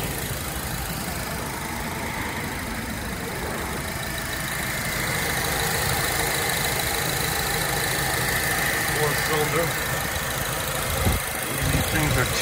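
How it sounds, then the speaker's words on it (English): A 2010 Honda Accord with a 2.4-liter four-cylinder engine idles steadily at close range, giving a constant low hum with slight vibration that holds even for the whole stretch. "Sounds like a Honda Accord engine."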